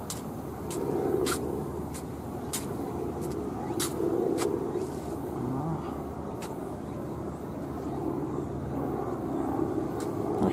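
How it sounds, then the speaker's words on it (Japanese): A steady low engine drone of a helicopter flying fairly close hangs in the background at Mount Ogon, Hiroshima, with a few sharp clicks scattered over the rumble. "ヘリもすぐそこを飛んでる感じがします。"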